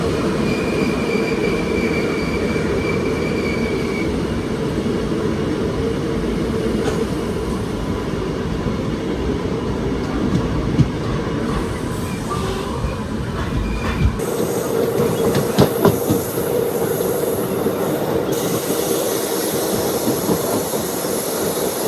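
The Vanchinad Express rolls into Mavelikkara station, a loud continuous rumble of wheels and carriages with brief squeals and metallic clatter, shifting in tone partway through as it passes close by.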